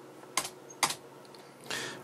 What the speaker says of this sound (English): You can test it out by just typing LHA, enter